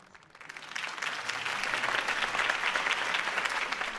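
A crowd breaks into applause after a political campaign speech in Batman: The Telltale Series, the clapping swelling quickly from quiet to a steady, dense roar of many hands.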